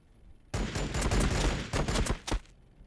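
Pistol shots from a Warhammer 40,000: Battlesector Tyranid skirmish: a rapid, close series of sharp cracks blending into a crackling volley that lasts about two seconds before stopping.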